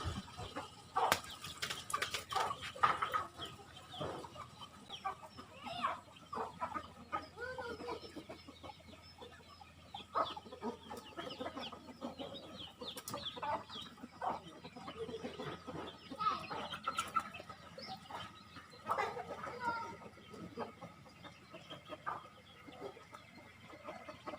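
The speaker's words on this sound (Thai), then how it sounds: "เลี้ยงไก่พี่น้อง" Chickens cluck and chatter steadily throughout, a busy flock at moderate distance with scattered louder calls over faint outdoor background.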